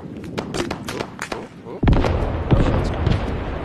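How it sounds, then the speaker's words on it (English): Bombs dropped by a Phantom jet in a video game thud and boom in a rapid string of sharp blasts, which then swell into a heavy, rumbling barrage, with a voice talking over it. "Here goes the Phantom again, dropping more bombs."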